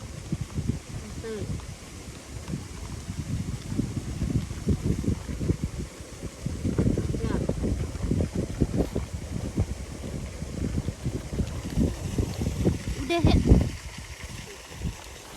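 Strong wind sweeps across an open farm field during pesticide spraying, roaring and buffeting the microphone in constant gusts while people talk underneath.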